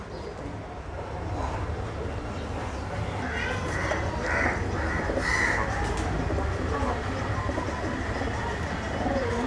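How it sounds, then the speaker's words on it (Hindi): Pigeons, male and female birds of a fancy Madrasi breed shown by a keeper, coo and flutter close by over a constant rumbling background, with a few distinct calls in the middle. "ये नर कबूतर"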